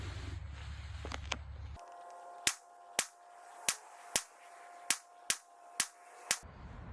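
Eight sharp gunshots ring out from a Nighthawk Custom 1911 pistol during outdoor target accuracy practice. The shots come at a steady pace about half a second apart, each a crisp crack with a short decay, after a quieter stretch of background noise.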